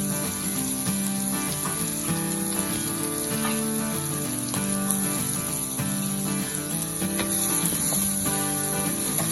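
Onion and garlic sauté with shrimp in a pan, a continuous dense sizzle that stays steady and close throughout, with no speech.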